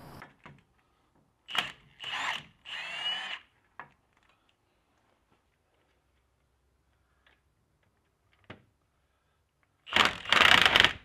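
A power tool with a 13 mm 12-point socket backs out a wheel hub bolt on a Jeep Wrangler, sounding as several short whirring bursts separated by pauses, then a longer, louder run near the end.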